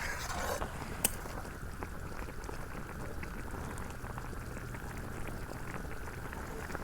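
A pot of village-style curry with tomato, brinjal and potato bubbling steadily, making a soft continuous boiling hiss with faint gurgles and one brief knock near the start, quiet and without talk.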